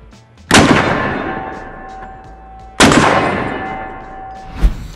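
Two loud, sharp .308 rifle shots from either a SCAR 17S or a DD5V4 AR10, spaced about two seconds apart, each ringing out and decaying over open air, with a faint metallic clink at the end.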